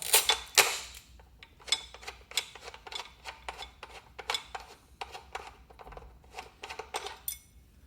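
A 12 mm headlight bolt is removed from a Triumph Thruxton R motorcycle, giving a run of small metallic clicks, ticks and scrapes from a wrench at close range. The sharp taps come in irregular bursts with no talk.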